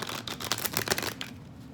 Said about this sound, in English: I'm going to do just a slight bit more shuffling because I like to do that while you're watching